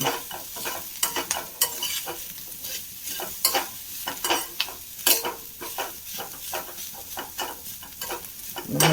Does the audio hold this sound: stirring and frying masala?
yes